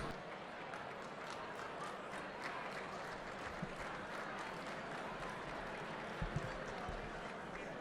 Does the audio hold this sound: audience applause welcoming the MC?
yes